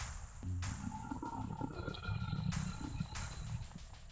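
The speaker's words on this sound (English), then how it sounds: "I heard the horrible bellowing roar" A harsh, bellowing roar from the spider beast in the NES Godzilla video game rises around half a second in and holds loud and rough over a low rumbling electronic soundtrack, with sharp bursts recurring through the passage.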